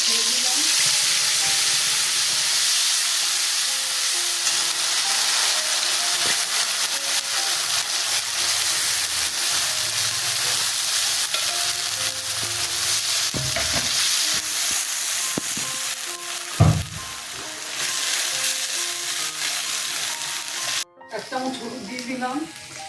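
Black cumin, fenugreek and cumin seeds frying in hot oil alongside green chilli, a loud, dense, continuous sizzle with stirring, occasional clatter from a utensil near the end.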